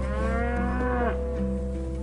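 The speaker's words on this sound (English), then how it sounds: "But Gilly keeps most of her cattle for many years." Cattle low on a farm, one long drawn-out moo with rich harmonics, loud and close, followed by a quieter second call over steady low background.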